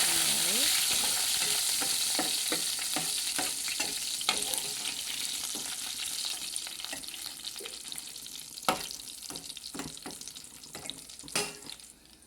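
Steady sizzling of curry leaves and small onions frying in oil, with scattered clicks and scrapes of a spoon stirring the pan, no talking.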